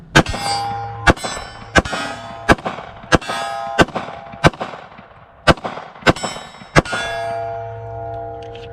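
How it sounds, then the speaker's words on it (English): Ten rounds from a Glock pistol with an SCT 43 setup and an AimSurplus slide, loaded from a factory 10-round magazine, fired outdoors as loud, sharp, evenly spaced close shots with ringing metallic echoes between them. "Okay, fired those 10 rounds just fine."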